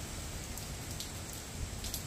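Steady rain pours down on a cold, wet, windy day, a dense even hiss of drops hitting surfaces outdoors with no voices.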